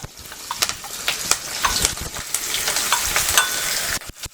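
Ginger garlic paste frying in oil with curry leaves for brinjal curry, a loud, close crackling sizzle with frequent sharp pops and a spoon stirring throughout.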